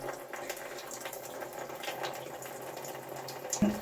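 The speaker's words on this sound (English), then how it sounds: "the radiator will drain" Clear water drains from a domestic radiator with a TRV, a steady soft trickling and gurgling flow that runs continuously at low level, with a brief clunk near the end.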